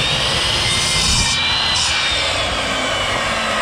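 A power drill bores into old reclaimed decking boards, a loud, steady, whining motor drone that runs unbroken for the full few seconds.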